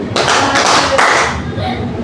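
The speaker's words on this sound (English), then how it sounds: "So may I hear 3 claps if you really understand?" A class of students claps together in three quick group bursts, close and loud in a classroom.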